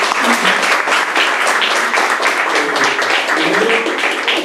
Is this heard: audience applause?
yes